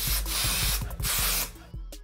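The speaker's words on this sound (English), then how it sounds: "I'm gonna take a little bit of the holding spray" A short hiss of hair holding spray from a can during a wig install, in a few quick bursts close by.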